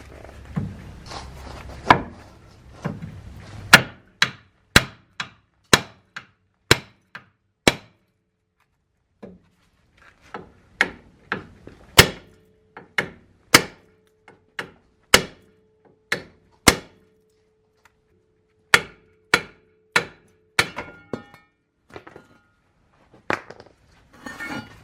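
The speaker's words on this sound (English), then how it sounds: "I just hit that with a hammer to get that loose" A hammer bangs on the ball joint of a third-generation Dodge Ram 3500 Cummins, around two dozen sharp metallic strikes in irregular bursts with short pauses, loud and close.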